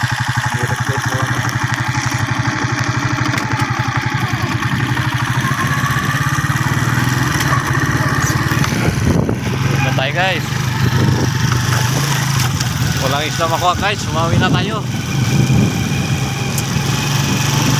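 A motorcycle engine runs steadily throughout, a constant close drone on a windy day while someone talks over it.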